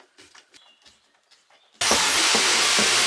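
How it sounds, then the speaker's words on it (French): Large Phillips screw being driven into a camper van wall, starting with quiet scattered handling knocks and scraping, then a sudden loud, sustained grinding burst of driving noise that continues to the end. "Je suis en train de m'arracher les poignets à visser ça"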